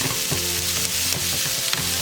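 Onions and jalapeno fry in a hot pan, a steady close crackling sizzle with light stirring clicks throughout and no talk.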